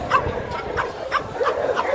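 A guard dog at a Friday market in Egypt gives a run of four or five short, close barks with a slight whine, evenly spaced over market background noise.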